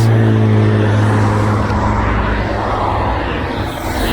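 Cars pass on a road at night, their engine and tire noise loud and steady up close, then slowly fading, with no one talking.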